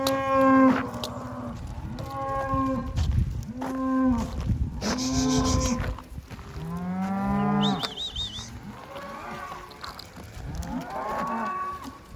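Several heavily pregnant cows moo repeatedly on a mile-long walk down from the hill to the farm, loud and close, with long drawn-out calls overlapping one another and no talk.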